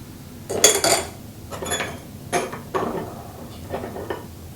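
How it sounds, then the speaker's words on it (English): Keemun Mao Feng black tea leaves are stirred in a vessel, giving several close clinks and scrapes in irregular clusters, some louder and some softer, with no talk. "You just stir this around a little bit."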